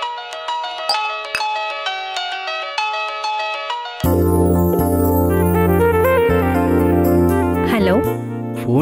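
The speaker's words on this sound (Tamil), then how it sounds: "ஃபோன் யார் பண்ணாங்கன்னு பார்த்துட்டு அப்புறம் தான் அட்டெண்ட் பண்ணணும்" A mobile phone ringtone chimes in a repeating melodic pattern for several seconds, then gives way to a louder, denser musical passage with a sustained tone.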